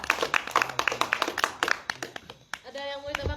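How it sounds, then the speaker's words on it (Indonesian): A small audience at an artists' talk claps for their neighbours with distinct, fairly close hand claps that ring out in an uneven rhythm before fading into scattered claps and brief speech. "Tepuk tangan untuk tetangga kita,"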